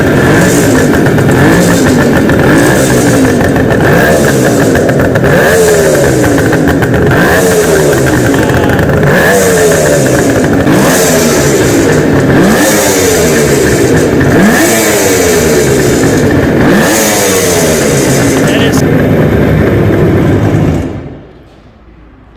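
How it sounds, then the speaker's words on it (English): A 1973 Kawasaki KH500 two-stroke triple motorcycle revs hard and close, its engine rising and falling in repeated throttle blips for about twenty seconds before cutting off abruptly. "1970s Kawasaki KH500 triple. Something you don't get to see every single day."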